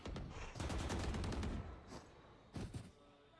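Rapid automatic gunfire rattles in the video game Valorant, a sustained burst followed by a shorter second volley, fairly close and sharp.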